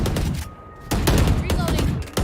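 Gunfire in a team shooter video game, tactical-shooter style, with several loud sharp shot bursts spaced through a couple of seconds, the bursts broken by a short quieter gap.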